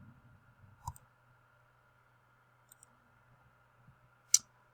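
A few sparse, faint computer mouse clicks sound in a quiet room, widely spaced, with one sharper click near the end.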